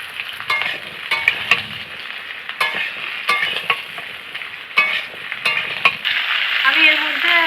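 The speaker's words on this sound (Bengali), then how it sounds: "ভালো করে নাড়াচাড়া করে নিচ্ছি।" Vegetables being stirred over fried onions in a pan for a Bengali fish curry: a crackling sizzle broken by repeated sharp spatula scrapes and clacks, close and fairly loud, with no talk.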